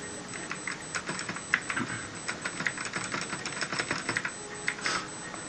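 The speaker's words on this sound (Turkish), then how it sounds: "Mekanik klavyenin sesi geliyor." Rapid, irregular clacking of mechanical keyboard keys during PC gaming, many sharp close-up clicks in uneven bursts over a faint steady background hum.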